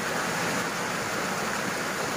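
Fresh water rushing steadily in a stream through a mountain village, a dense, continuous broadband wash close by with no pauses or voices.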